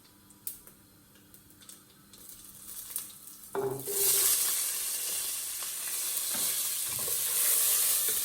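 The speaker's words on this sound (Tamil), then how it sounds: "ஒனியன் கொஞ்சம் நேரம் நல்லா பொன்னிறமாக பொரியணும்" Sliced onions and green chilies drop into hot oil for a Tamil-style lamb curry, sending up a sudden loud sizzle that holds steady after a few quiet clicks and stirring taps at the start.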